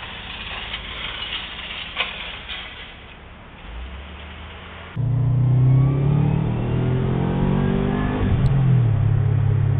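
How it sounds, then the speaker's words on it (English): A 2009 Subaru Impreza WRX turbo with a 300 hp engine rumbles through its exhaust, first a faint idle, then a louder, deeper rev that holds and swells near the microphone. "I just wanted to capture a little bit of the exhaust system that Ian's got on his ride"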